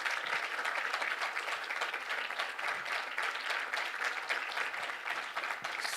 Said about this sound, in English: So give a big round of applause for these guys.